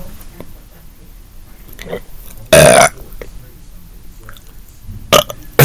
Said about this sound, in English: Oh wow, that felt good to burp.